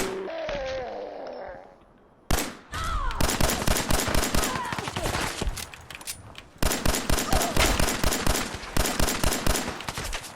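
Rapid automatic gunfire in Fallout 4 comes in two long bursts of evenly spaced, loud, close shots, with a brief single blast between them and a quieter stretch with a voice at the start.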